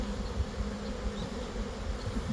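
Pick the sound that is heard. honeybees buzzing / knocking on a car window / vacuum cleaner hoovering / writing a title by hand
honeybees buzzing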